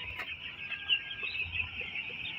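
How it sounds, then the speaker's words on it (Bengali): Nine-day-old broiler chicks peep continuously in a high, dense chorus at a poultry shed, steady and moderately close with no voices. "এই নিউ হুপের মুরগির বাচ্চাগুলোর বয়স হচ্ছে আজকে 9 দিন।"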